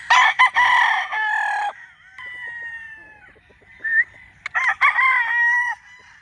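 A straight-comb Boston Boxer Gray gamefowl rooster crows loudly and close, two full crows separated by quieter clucks and rustling, with no talk over it.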